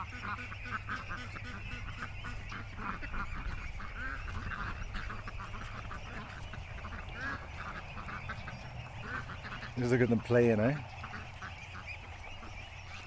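Ducks and geese in a backyard duck pen quack and honk close by, with a burst of loud honking near the end, while a person speaks briefly.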